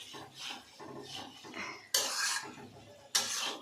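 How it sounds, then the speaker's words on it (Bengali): Pabda fish cooking in a pan, with scraping, clinking and rubbing of a utensil against the pan in uneven strokes, plus two sharp louder bursts of frying sizzle partway through and near the end. "আমি পাবদা মাছ রান্না করতেছি"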